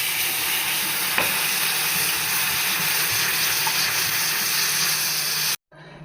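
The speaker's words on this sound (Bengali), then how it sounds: "কড়াটা অলরেডি বসিয়ে দিয়েছি, ধোয়া উঠছে, গরম হয়ে গেছে। একটু জল দিয়ে দেবো।" Water poured into a hot, smoking wok (kadai) sizzles and hisses steadily and loudly while mustard and poppy seed steamed prawns are being prepared, then it cuts off abruptly near the end.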